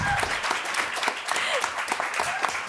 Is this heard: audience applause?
yes